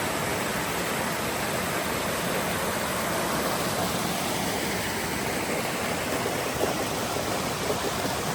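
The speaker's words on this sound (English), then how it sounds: "Little water feature." Steady rushing water from a small waterfall dropping about 45 feet on the Appalachian Trail in Virginia, a continuous broadband roar with no breaks and no voices.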